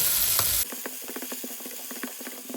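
Curry leaves and fennel seeds sautéing in a pan for a banana-flower curry: a brief loud hiss, then a close crackling, popping sizzle with quick irregular ticks.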